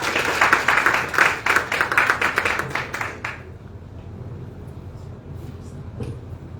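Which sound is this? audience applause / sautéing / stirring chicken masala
audience applause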